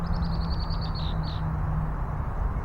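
A bird outdoors gives a quick run of high chirps followed by a short trill, then falls quiet against a steady low background hum.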